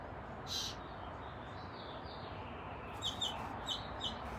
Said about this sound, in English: I suddenly noticed a bird flying out from one of the straw nests I had hanging here as decoration